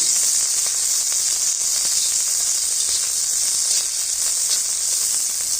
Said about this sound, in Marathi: त्याच्यामध्ये थोडंसं लसूण टाकून घ्यायचं आणि लसूण पण ह्याच्यामध्ये चांगला असा परतून घ्यायचा